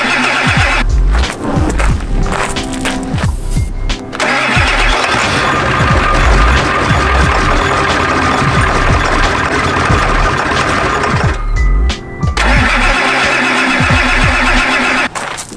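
Ford Econoline van with a 7.3 diesel, given starter fluid, cranks and fires into a loud, rough, steady rumble that runs on with brief dips, recorded close.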